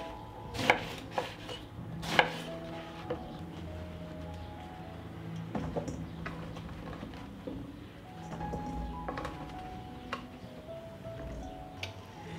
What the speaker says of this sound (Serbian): I tako ću iseći sav patliđan.